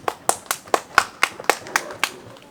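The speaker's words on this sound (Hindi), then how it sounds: "ताली बजाओ सब।" Children at a kids camp clapping together in a steady, loud rhythm of about ten sharp claps over a couple of seconds, with no talking over them.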